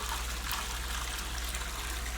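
Water pours steadily into a container that is bulging as it fills, a continuous broadband rushing and splashing that holds level throughout, with no talk over it.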